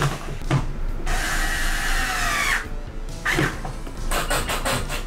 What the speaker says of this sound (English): drill the pieces all the way in.